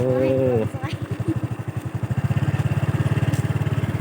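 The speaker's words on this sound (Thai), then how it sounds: "นี่เครื่องสูบเครื่องสูบน้ำนะครับผม" A water pump engine running outdoors in rural Thailand, a loud close mid-pitched putt-putt chugging in a fast, steady rhythm, preceded by a brief voice at the start.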